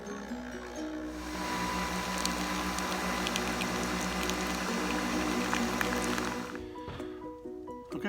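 A Nespresso coffee machine brews a vanilla custard pie pod with a loud, steady gurgling hiss and pump whir that runs for several seconds, then cuts off, leaving a quieter tail.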